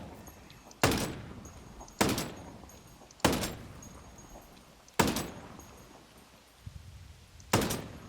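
G28 Scout DMR marksman rifle firing in the video game Ghost Recon Breakpoint, five loud single shots spaced about a second or more apart, each a sharp crack trailing into a decaying echo.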